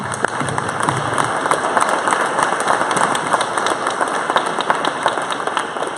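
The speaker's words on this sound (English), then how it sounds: "I want to give her another round of applause." A room full of people at a Kansas City entrepreneur gathering gives a sustained round of applause, dense crisp clapping running steadily from start to finish with no speech over it.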